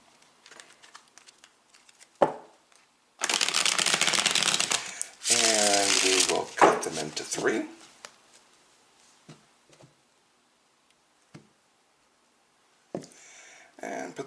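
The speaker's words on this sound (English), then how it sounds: "we'll give the cards another good shuffle, shuffle, shuffle." Tarot cards riffled and shuffled up close in two dense rustling bursts, followed by scattered soft taps and slides of cards.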